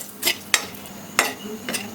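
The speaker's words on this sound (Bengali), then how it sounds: "একটু দারচিনি ভেজে নেব, 3টে এলাচ দানা।" Cinnamon and three cardamom pods frying in oil in a pan, a soft sizzle with several sharp spatula scrapes and clinks, close and moderately loud.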